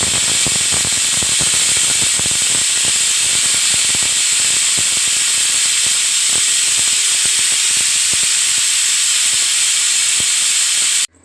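A pressure cooker lets off a loud, continuous steam whistle while sambar cooks, a steady hiss with faint crackles that cuts off abruptly at the end.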